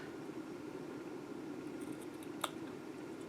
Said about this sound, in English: So I'm going to cut this tip off